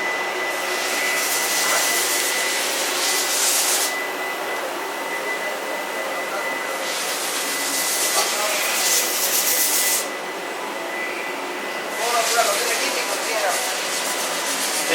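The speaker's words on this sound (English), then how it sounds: "the lathe machining center." A lathe machining center in a precision machine shop making AR-15 bolt parts runs with a steady, loud broadband hiss and whir, swelling in three bursts of brighter high-pitched rushing, likely coolant spray or cutting, over a constant hum.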